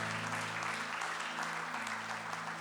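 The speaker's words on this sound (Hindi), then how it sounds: "एक और जोरदार ताली बजा दे।" A church congregation at a Sunday Hindi service claps together in sustained, steady applause filling the hall, with a low hum beneath.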